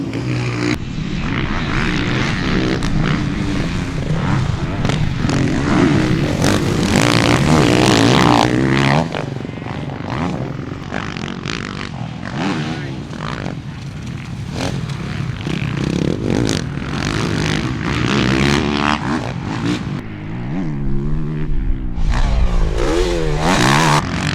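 A 2017 Husqvarna FC 450 four-stroke motocross bike ridden on a dirt track, its engine revving hard and loud with repeated throttle rises and drops, gear changes and brief backing off, close and continuous.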